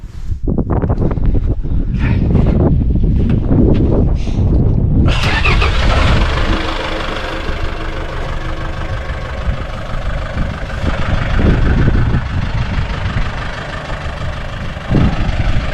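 A car engine idling near a New Zealand cliff edge as it slowly reverses, a loud steady rumble with a sudden rise in intensity partway through, then a continuous close drone.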